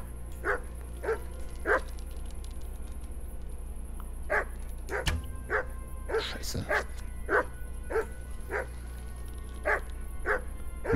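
A dog barking in the medieval video game Kingdom Come: Deliverance, a string of repeated single barks at irregular intervals over a constant low background hum, with a couple of sharp thuds in the middle.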